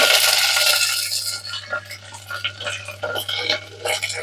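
Green chillies, onion and curry leaves fry in a pan over high heat, giving a steady bright sizzle that fades into intermittent crackles and spatters, with occasional stirring clinks.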